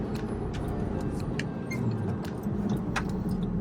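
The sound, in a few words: car engine while driving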